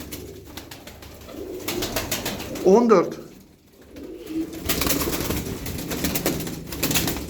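Tumbler pigeons in a coop give a brief, throaty coo near the middle, heard over steady rustling and background noise while someone speaks briefly.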